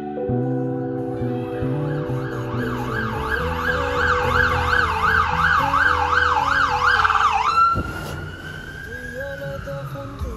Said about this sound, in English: We see so many ambulances and fire trucks.